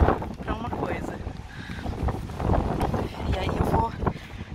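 Strong outdoor wind buffets the microphone in a steady rumbling roar, with a voice talking Portuguese intermittently beneath it.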